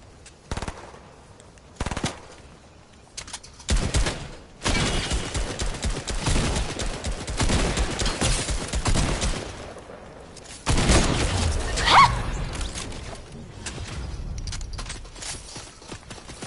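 Bursts of enemy gunfire in the game Fortnite, rapid automatic volleys with loud clustered stretches broken by brief pauses, close and harsh.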